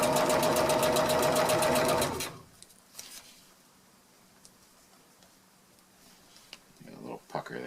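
Sewing machine running fast and steady while stitching a rolled hem on a fabric pack cover, then stopping abruptly, leaving quiet room noise and a few faint handling clicks.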